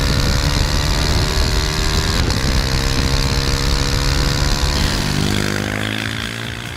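A 2017 KTM RC 390 single-cylinder motorcycle with a Euro 4 exhaust revs hard and steady at full throttle, a loud throaty engine drone that holds for several seconds and then starts to fade.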